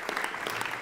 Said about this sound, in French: Là, ça applaudit derrière